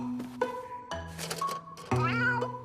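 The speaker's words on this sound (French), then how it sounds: "C'est bien, Grippy, t'es un bon chat." A cat meows several times in a row, close and clear, the plaintive cries rising and falling with short gaps between them.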